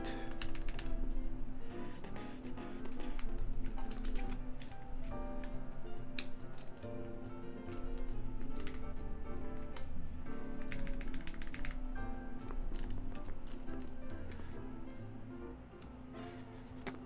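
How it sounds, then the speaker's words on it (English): Mechanical switches are pressed onto a custom keyboard with stabilized keys, giving dense, rapid clicking and clacking in close, steady bursts with no talking. "We're just putting on a couple switches to ensure these stabilized keys are straight."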